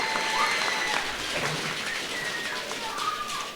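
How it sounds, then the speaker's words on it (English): Audience applause at a Denver women's professional soccer stadium announcement, a steady broadband wash of clapping lasting the whole stretch, fairly distant and even, with faint bird calls or cooing mixed in. "That's worth applauding."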